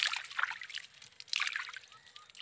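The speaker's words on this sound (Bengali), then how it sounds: "অনেক কষ্টে পানি দিচ্ছি খেতের ভিতরে।" Water trickles and sloshes steadily as it runs from a drain into a rice paddy field, a soft continuous flow with small splashy bursts, heard close with no talking.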